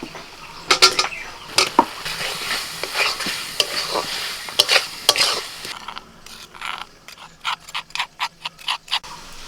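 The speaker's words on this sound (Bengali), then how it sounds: "মশলার সাথে আলুটাকে ভালো করে কষিয়ে নিয়েছি" Fried potato being stirred with cooked-down spices in a pan, heard as repeated close scraping and clattering strokes of a spoon over a faint sizzle, coming faster and more rhythmic toward the end.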